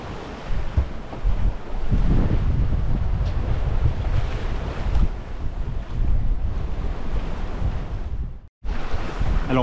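A sailboat sailing close-hauled in about 14 knots of wind, with steady loud rushing of water and heavy wind buffeting on the microphone throughout, broken by one brief dropout near the end.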